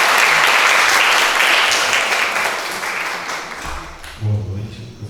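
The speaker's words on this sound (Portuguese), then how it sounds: "uma salva de palmas" Audience applause at a Brazilian roundtable talk on student mental health, a sustained burst of many hands clapping together that slowly fades, with a low voice starting as it dies away.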